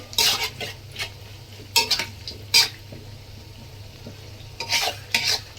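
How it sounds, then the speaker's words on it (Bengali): Onions frying for a beef curry are stirred in a pan with a utensil, giving irregular scraping bursts over a steady sizzle, close and fairly loud. "একটু আপনারা ঘন ঘন নাড়া দিয়ে নেবেন, কারণ পেঁয়াজ আবার নিচে লেগে গেলে আবার পুড়ে যাবে"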